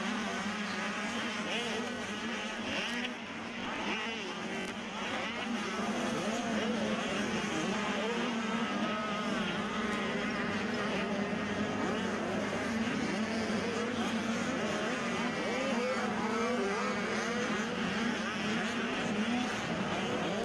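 Youth Mini Sr 1 motocross bikes, including an RM85, race at Loretta Lynn's amateur nationals, with a continuous high buzzing engine whine from several bikes at a distance and an announcer talking over it throughout.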